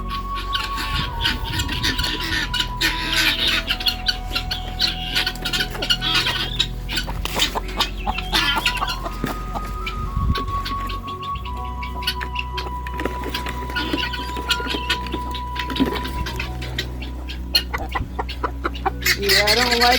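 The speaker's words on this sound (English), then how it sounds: "I might as well stop and get the chickens a treat. And they're already going nuts." Backyard chickens cluck and squawk excitedly in a busy, overlapping chorus, near and loud, with pattering and rustling throughout as they crowd in for a treat.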